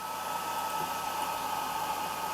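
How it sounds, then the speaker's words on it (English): On an Atomstack X20 Pro 130W laser cutter, the air assist pump and exhaust fan run together, producing a steady, fairly loud continuous whooshing drone with a constant tonal hum and no voices. "I'm going to turn on air assist, and I'm going to turn on my fan. It's going to be a bit noisy right here."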